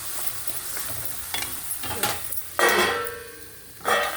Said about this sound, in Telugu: ఈ వంకాయలు కూడా ఇలాగే కొంచెం ఆయిల్లో ఫ్రై చేసి అందులో వేసేస్తాను.